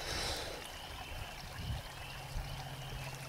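Steady soft rushing of a flowing river, heard close and fairly quiet, with a few low bumps and thuds over the continuous water noise.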